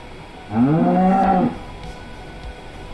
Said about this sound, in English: Got the moo in there.